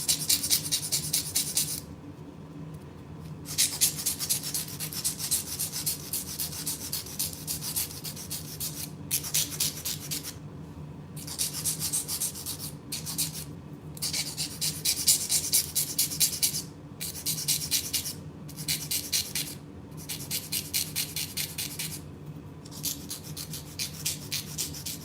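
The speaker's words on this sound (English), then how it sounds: "I'm just filing them down just a little bit" Acrylic nails being filed down by hand, a steady close rasping rub in long continuous strokes with brief pauses between bursts.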